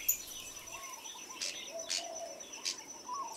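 A red-headed male songbird on a predator-free island gives faint, distant chirps, repeating three or four times at roughly half-second gaps against a quiet background.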